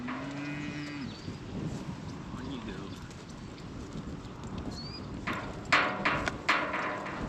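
Cattle low in the open air of a farm field: a long moo up front, then a few more calls from varied distances, with hoof shuffling and a burst of rustling and knocking near the end.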